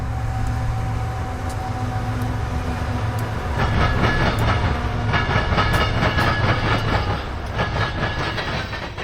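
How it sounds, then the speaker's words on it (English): A loaded BNSF coal train heads north on the Indiana Harbor Belt line near Calumet Junction, a heavy rolling rumble that swells into rhythmic clickety-clack of wheels over rail joints as the cars pass close by. "This loaded BNSF coal train is heading north on the IHB"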